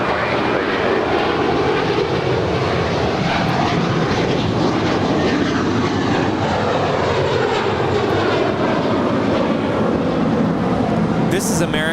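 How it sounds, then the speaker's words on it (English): An American Airlines Airbus A321 takes off from LAX, a loud, steady broadband jet engine roar filling the whole stretch without letup, with no talk over it. "This is American Airlines 669 departing to Chicago. It's an A321."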